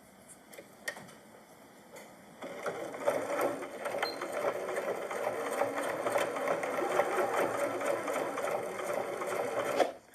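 A Janome sewing machine stitches across the box corner of an On Point tote bag. It starts after a couple of seconds of light handling and then runs as a steady, fast, close mechanical patter until it stops abruptly.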